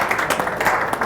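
An audience applauds at the player's meeting of the 2016 USBA Nationals, a steady, fairly loud patter of many hands clapping together for about a second.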